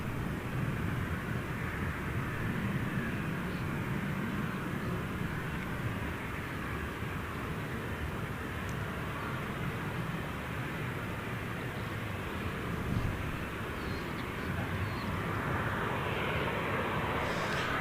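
An airliner departing Gold Coast Airport, a steady, distant broadband engine rumble that holds evenly from start to finish with no one talking.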